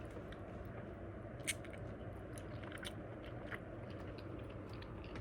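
Someone chewing tteok rice cakes from a dish of tteokbokki, with soft, faint, sticky chewing and a few small crunches close to the mouth over a steady background hum.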